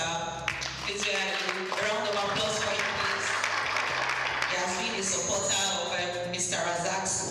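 Audience applause at a conference on credit infrastructure and business in Africa, sustained clapping running under music and voices throughout.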